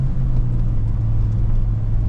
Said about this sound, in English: I can downshift real high